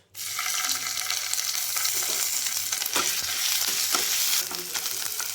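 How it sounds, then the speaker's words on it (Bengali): Ginger garlic paste frying in melted butter in a wok for dal makhani, a loud, continuous close sizzle with occasional stirring scrapes throughout. "আদা রসুনকে আমি বাটারের মধ্যে হালকা কষিয়ে নেব, অর্থাৎ 1-2 মিনিট এইভাবে হালকা এপাশ ওপাশ করে আমি ভেজে নেব।"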